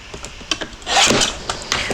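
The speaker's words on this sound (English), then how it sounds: "I'm going to cut that one right there" Scissors cut through Christmas wrapping paper in a brief, close rasping slice, surrounded by a few light crinkles and taps.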